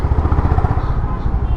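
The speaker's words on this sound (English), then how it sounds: "the best part of this bike so far is the exhaust note" A stock-exhaust Honda CB350 cruiser thumps with a rapid, pulsing low burble, loud and close, the beat wavering slightly as the engine runs.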